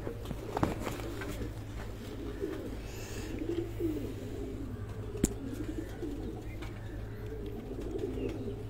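Pigeons of a France breed coo softly in a home loft, including a roughly seven-year-old male, with low, repeated murmuring coos under steady background hum and a few faint clicks.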